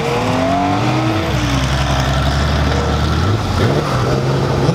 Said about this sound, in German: auch der Chef des Hauses Dietz lässt so ordentlich krachen